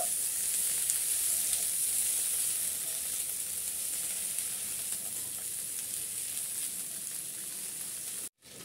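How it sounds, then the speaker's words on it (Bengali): Finely chopped onion greens and onion stalks sizzle in hot oil in a pan, a steady, close, bright hiss that holds evenly and cuts out briefly near the end. Nobody speaks. "এখন আমি এগুলো একটু তেলের উপর সেদ্ধ করে নেব"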